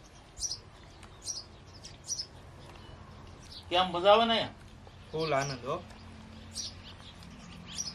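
Small birds chirp in short, scattered bursts across a village setting, with two stretches of people talking in the middle.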